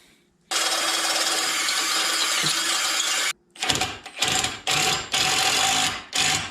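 A power drill whines steadily for several seconds while drilling holes in metal on a Bronco, then runs in a series of short bursts with brief pauses between them, close and loud.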